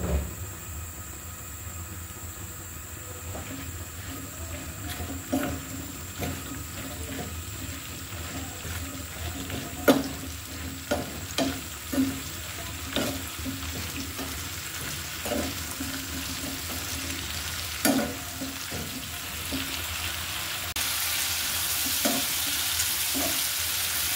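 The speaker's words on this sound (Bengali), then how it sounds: "আমার শিমগুলো কিন্তু ভাজা হয়ে গিয়েছে" Flat beans fry in a pan with turmeric and salt, giving a soft continuous sizzle broken by a series of scraping clacks from a spatula stirring, close and steady, ending in brighter crackling.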